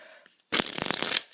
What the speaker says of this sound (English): it is a very good way of shuffling the cards,